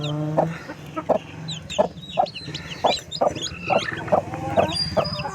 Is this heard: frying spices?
no